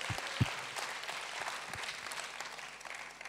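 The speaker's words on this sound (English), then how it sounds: "Let's give the Lord a big hand." Church congregation applauding, a steady wash of clapping throughout at moderate distance, with a couple of sharper close claps near the start.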